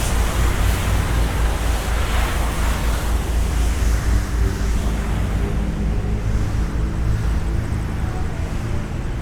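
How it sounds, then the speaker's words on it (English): A pressure washer runs outdoors at night on a university campus, a steady, dense, unbroken hiss that fills the whole stretch without pause. "Someone else pressure washing up here."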